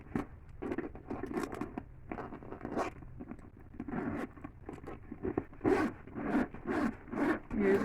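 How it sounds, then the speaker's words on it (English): A purse zipper, on a Speedy 30 bag, is opened and closed over and over in short rasping pulls that vary in length, close by with brief pauses between strokes. "Zipper, pretty good for the most part."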